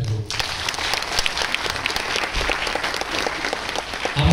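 A theatre audience in Agartala gives loud, dense applause, many hands clapping continuously and evenly for several seconds, close and full, with a few faint voices underneath.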